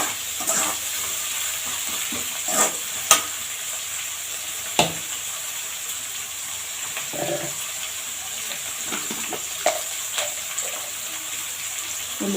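Sliced onions fry in a pan for pasta, a soft continuous sizzle with occasional sharp scrapes and taps of stirring, quiet and steady throughout.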